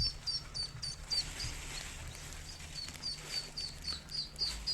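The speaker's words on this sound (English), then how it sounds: "Let's see if we can collect up some ducklings." Ducklings give faint high peeps in short repeated bursts while they are collected outdoors in Southampton Old Town, over a low rumble of background noise.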